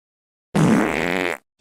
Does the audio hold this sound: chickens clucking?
no